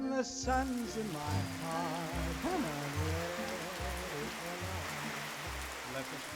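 Steady rain falls on a rainy day in the Korean countryside, a soft continuous hiss running beneath music and a voice.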